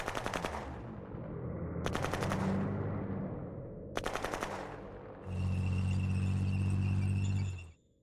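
Bursts of rapid automatic gunfire ring out in a Shadow Empire battle as foot militia attack, three short volleys followed by a longer sustained burst layered with a droning tone, loud and close.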